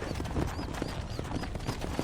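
A horse's hooves clip-clop in the video game Red Dead Redemption, a steady, moderately loud stream of hoof strikes over a dense background bed of game sound.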